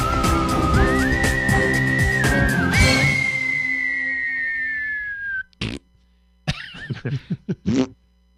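A person whistles a tune as a single wavering, gliding melody over busy background sounds for about five seconds, followed by a pause and several short, abrupt bursts of noise.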